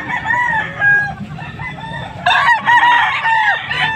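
Roosters crow loudly and close, several overlapping calls with clucking between them, a busy farmyard chorus in Pampanga, Philippines.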